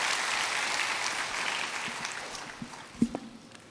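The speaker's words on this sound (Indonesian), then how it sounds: "Tepuk tangan buat Tuhan." Congregation applause in a church service, a steady wash of clapping that slowly fades out, leaving a few scattered louder claps near the end.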